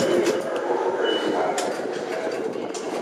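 An LA Metro train rides between stations with a steady loud rumble and rail hiss, plus faint high squeals and clicks, heard from inside the car.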